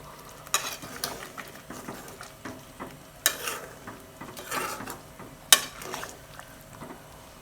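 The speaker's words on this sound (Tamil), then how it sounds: "கொஞ்சம் சிம்லேயே வச்சு வேகட்டும்." Kaveri river kendai fish curry with black tamarind simmers in a pan, with soft bubbling under scattered clinks and scrapes of stirring, close by and moderately quiet.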